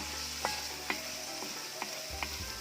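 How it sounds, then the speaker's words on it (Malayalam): Beef liver frying in an uruli over a wood-fired stove while being stirred, with a steady close sizzle broken by several sharp spoon scrapes against the pan. "നന്നായിട്ടൊന്ന് ഇളക്കി കൊടുക്കാം."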